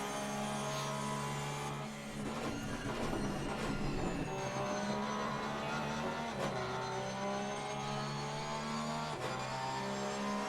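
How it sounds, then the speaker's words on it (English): Simulated race car engines, a Lexus and a Porsche battling in a racing video game, droning steadily with rising and falling revs and gear changes, loud and continuous with no voices. "Ian Otley under a little bit of pressure from Eckhart von Gland, who's in the Lexus, and Ian Otley in the Porsche."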